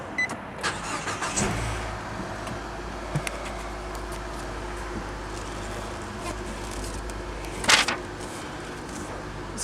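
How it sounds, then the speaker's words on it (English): A 2014 Nissan Juke's engine cranks and catches after a few faint clicks. It gives a brief, fairly quiet burst and then settles into a low, steady hum. "Without further ado, let's go on and start this car up."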